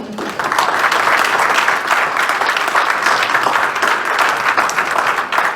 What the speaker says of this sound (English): I want everyone to please clap